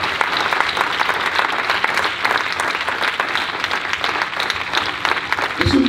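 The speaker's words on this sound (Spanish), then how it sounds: "¿Cuánto les quiere dar un fuerte aplauso?" Strong, continuous applause from wedding guests during the ceremony for Denise and Luis, dense crowd clapping throughout with a brief thump at the close.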